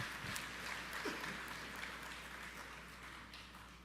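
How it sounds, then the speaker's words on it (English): Audience clapping at a national honours and investiture ceremony, a fairly soft, even patter of many hands that fades slightly toward the end, with no voices over it. "Give yourselves a round of applause, please."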